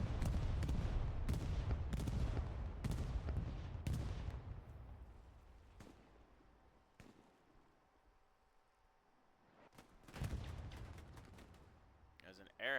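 Bombs and gunfire in a warfare video game scrimmage, a rapid series of loud sharp blasts in the first few seconds, then quieter rumble and scattered hits before another burst of explosions near the end.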